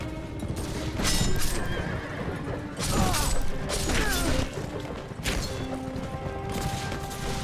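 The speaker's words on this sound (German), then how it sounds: "Wir haben hier nämlich noch eine ganze Reiterstaffel" Cavalry horses in the video game Mount & Blade: With Fire & Sword neigh repeatedly over a continuous rumble of galloping hooves and battle clatter, several loud whinnies rising and falling across the scene.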